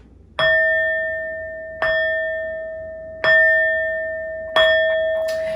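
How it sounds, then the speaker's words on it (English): Four clear bell strikes, evenly spaced about a second and a half apart, each ringing out with a bright sustained tone that slowly fades over quiet background hiss. "These next four bell sounds are to enlighten us and to bless this reading."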